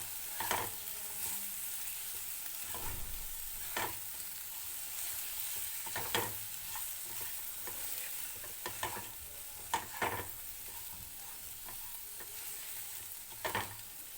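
Long yard beans and potato stir-frying in a pan, a soft continuous sizzle with irregular spatula scrapes and knocks scattered throughout, close but fairly quiet.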